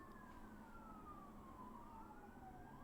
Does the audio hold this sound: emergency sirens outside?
yes